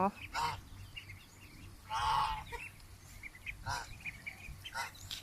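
Several loud quacking or honking calls from 25-day-old laying ducks on a farm, in short bursts spread across the clip, over a steady background of other birds and faint chatter.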